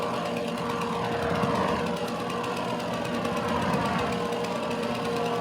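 A mower engine runs in a farming video game, a steady, loud, rattling drone that never lets up and has no talk over it.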